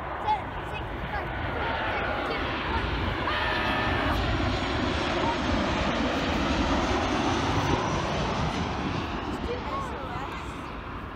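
Airliners on final approach, Southwest among them, roar steadily overhead as they come in to land, a loud continuous jet rumble that swells and holds for several seconds without any voices.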